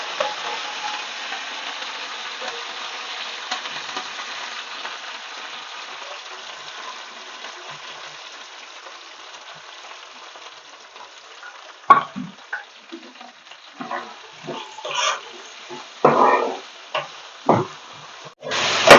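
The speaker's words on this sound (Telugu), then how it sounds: "ఉల్లిపాయలు అయితే బాగా రెడ్గా వేపుకోవాలండి, బ్రౌన్ కలర్ వచ్చే వరకు." Onions and curry leaves fry in oil for a mutton boti curry: a soft, even sizzle runs throughout, joined later by louder scraping and clattering as a ladle stirs the pan.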